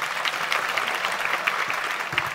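Studio audience claps steadily and loudly throughout a brief burst of applause, a dense continuous patter of many hands with no voices standing out.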